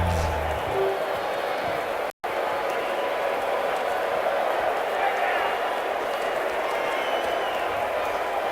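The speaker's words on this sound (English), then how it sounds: "So that explains the cries of joy from the crowd." Roaring video-game crowd noise from a Blood Bowl match between Goblins and Halflings, a steady broad wash of cheering and shouting that holds at an even level throughout, with one very brief dropout partway through.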